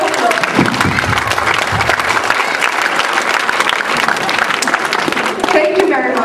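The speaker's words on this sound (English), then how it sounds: "Let's all give them our warmest round of applause." Graduation audience applauds parents at a 2012 academy ceremony, dense sustained clapping from a large crowd across the whole stretch, with voices mixed in underneath.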